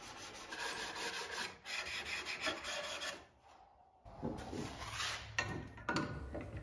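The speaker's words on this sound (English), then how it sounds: "followed by some final sanding to prep for finish" A wooden drawer front with a freshly rounded-over edge is hand-sanded in close, raspy rubbing strokes, with a brief pause midway before the scratchy back-and-forth sanding resumes.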